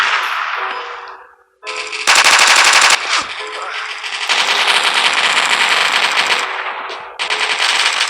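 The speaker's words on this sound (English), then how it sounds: "So that is a submachine gun." Submachine gun fire in the mobile shooter game Coalition, loud sustained automatic bursts with a short gap near the start and several long rattling strings of rapid shots up close.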